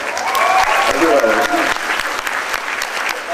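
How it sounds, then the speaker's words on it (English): Broad applause from a convention panel crowd at San Diego Comic-Con, a steady wash of many hands clapping with a voice talking over it near the start. "I was fishing for applause"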